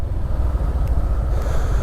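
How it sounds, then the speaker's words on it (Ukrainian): A 2016 Honda PCX 125 scooter engine runs softly, giving a low, even, steady rumble with a slight pulsing texture and no talk over it. "Двигунчик тихіше працює навіть, ніж у Ямахи."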